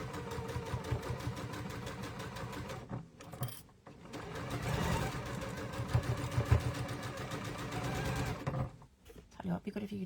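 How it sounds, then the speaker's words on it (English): A sewing machine stitches down a seam on a sampler quilt block, its steady rapid needle chatter running for several seconds with brief pauses, while someone talks over it. "I'm going to take that to the sewing machine and I'm going to stitch that down now."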